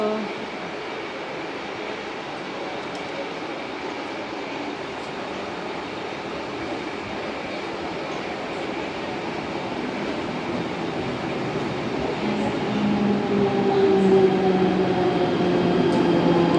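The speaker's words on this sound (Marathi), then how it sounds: "आली आली आली आली आली आली ट्रेन आली" A train pulls in at a station platform, its steady roar of wheels on rails growing gradually louder, with a faint squeal of brakes toward the end.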